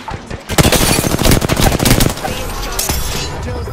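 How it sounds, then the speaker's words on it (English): Rapid automatic gunfire in Apex Legends crackles loud and close in dense bursts, tapering into scattered shots and ringing echoes near the end. "Hey, I'm getting shot!"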